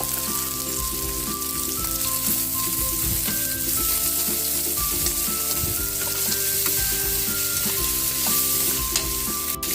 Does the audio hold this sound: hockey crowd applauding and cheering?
no